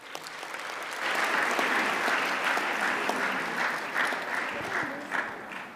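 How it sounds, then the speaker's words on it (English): A round of audience applause at a launch event for technologies for people with disabilities, building quickly after a quiet start into dense, sustained clapping that stays strong before easing slightly near the end. "Another thunderous round of applause."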